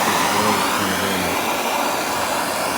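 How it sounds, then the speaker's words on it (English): A torch heats the dented lip of a Nissan Nismo alloy wheel rim, producing a loud, close, steady roaring hiss that holds constant throughout. "We got a torch."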